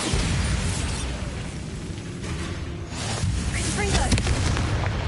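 The Bombarda blasting spell goes off in Hogwarts Legacy, a dense roar of booming explosions in a cave, loud and sustained, with clattering debris and game effects layered throughout.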